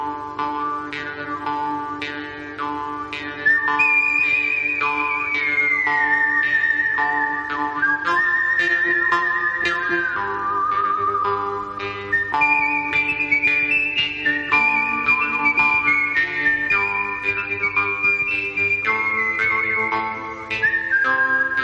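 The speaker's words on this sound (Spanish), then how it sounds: "podríamos decir que esta composición lo más destacable es el silbido" A bright whistled melody glides and sustains over a steady orchestral backing with plucked, ticking rhythm, loud and continuous throughout, in a spaghetti western score.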